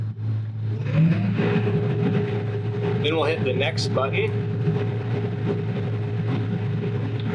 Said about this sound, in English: So we'll throttle up the engine.